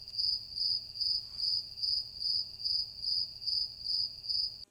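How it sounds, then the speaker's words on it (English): Crickets chirp outdoors outside a studio in a steady, evenly spaced rhythm of high pulses, about ten bursts, with a low background hum and no talking. "There's literally crickets outside my studio right now."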